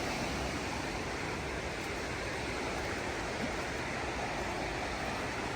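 Middle Creek water rushes steadily and broadband along a trail in North Carolina's Black Mountains, a constant close wash like a stream, with no voices and no change throughout.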